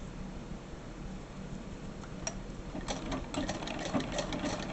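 Singer sewing machine running nearby with a steady mechanical hum and fast rhythmic stitching clatter that grows busier toward the end; no talk.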